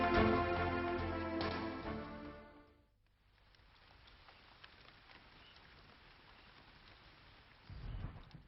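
Rain falls in a steady hiss of drops, preceded by a fading musical tone and followed by a low rumble near the end, moderately quiet with no voices.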